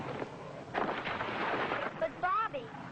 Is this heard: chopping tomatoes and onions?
no